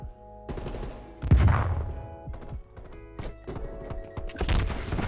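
Shots from a ZRG 20mm sniper rifle in Call of Duty: Cold War ring out loud and close, several heavy booms separated by pauses, with mechanical clatter between them.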